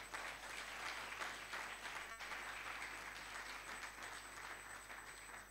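A church congregation applauding in praise, a steady wash of clapping from many hands that holds evenly throughout, heard at a distance and fairly soft.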